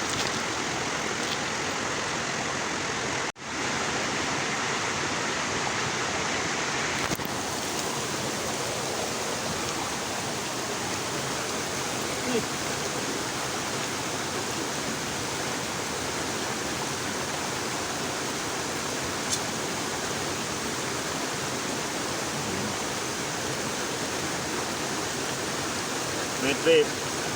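A shallow, clear river flows with a steady broadband rush of water throughout during net fishing, constant and close, with only a brief dip and a couple of faint knocks.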